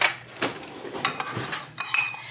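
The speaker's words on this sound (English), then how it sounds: "I'm just going to give this a good stir." A wing coating seasoned with kosher salt and black pepper is stirred in a bowl, several close metallic scrapes and clinks of a utensil against the bowl in an uneven rhythm.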